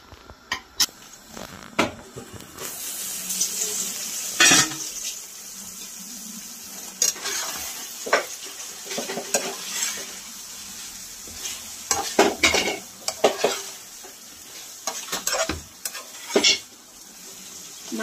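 Mutton being stirred and sautéed in a pan as onions and tomatoes cook down, with repeated scraping spoon strokes and knocks against the pan over a soft sizzle, close and irregular.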